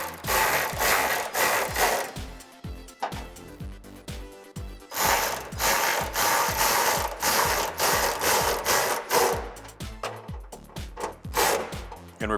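Steady, rhythmic clicking of a ratchet driving a 10mm socket to remove the fasteners of a matte black ducktail rear spoiler on a 2005-2009 Ford Mustang, with repeated bursts of ratcheting close up and no talking.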